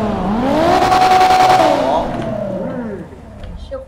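A loud car engine revs hard for about two seconds with a rising, whining pitch, then fades as the car pulls away, while people talk over it.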